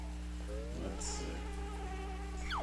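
Bees in the Banjo-Kazooie video game give off a thin, steady electronic buzz that holds in the background alongside a low game hum, faint and continuous with no talking.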